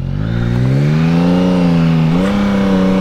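A 2022 Yamaha MT-09 motorcycle engine revs steadily while riding, its droning tone climbing gradually in pitch, with a brief dip and a fresh rise near the end, loud and continuous.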